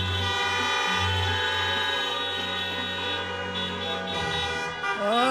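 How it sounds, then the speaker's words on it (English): Car horns honking together in celebration at a drive-in university graduation ceremony: sustained overlapping horn tones blare loud and continuous throughout, with a pitch sweep near the end. "Has anyone ever been so happy to hear honking?"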